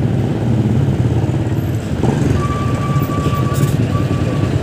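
A bus passes nearby on a busy road in heavy traffic, its engine rumbling loudly alongside the steady hum of a Honda Click 125 scooter, with a high beeping tone cutting in midway.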